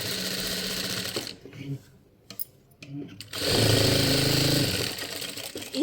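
A sewing machine stitching a blouse lining at marked dart points: a rapid mechanical whirring run, a brief pause with handling noises, then a second, louder continuous stitching burst close by.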